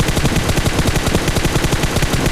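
Rapid automatic gunfire from a shooting video game, a loud continuous stream of closely spaced shots filling the whole stretch with no pause and no voice over it.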